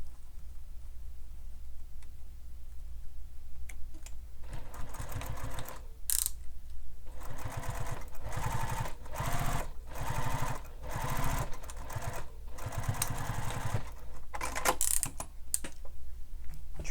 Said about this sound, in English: then we'll top stitch this down.